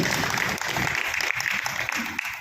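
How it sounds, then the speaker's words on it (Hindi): Hall audience clapping loudly during a motivational talk, dense steady applause filling the short moment with no clear speech over it. "एक बार जोरदार तालियां अपने स्वागत में बजाएगा,"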